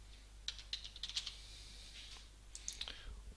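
Someone types a password on a computer keyboard during a website login, producing two quick bursts of crisp keystroke clicks over a steady low room hum.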